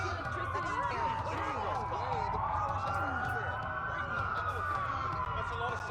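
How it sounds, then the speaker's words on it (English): Several police sirens in the Watch Dogs video game, overlapping wailing tones that rise and fall continuously at moderate distance, with voices talking over them. "That's a lot of sirens for a blackout."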